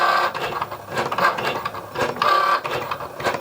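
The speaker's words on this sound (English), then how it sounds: "Then just press go in Cricut Design Space to start the drawing portion." A Cricut Joy machine drawing labels with a pen gives a steady, close mechanical whir and buzz, its carriage motor rising and falling in short repeating passes with no voices.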